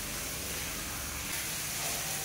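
Spiced yogurt masala with grated ginger frying in a pan as a little water goes in, giving a steady close hiss and sizzle that holds throughout.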